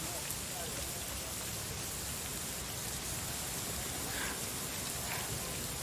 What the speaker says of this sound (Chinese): 下有雨，哦，下雨。